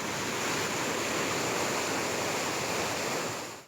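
Muddy floodwater rushes down an alley in Jardim Industrial, Londrina, Brazil, pouring like a waterfall after heavy rain; a loud, steady broadband roar of churning water fills the whole clip without a break, with no voices.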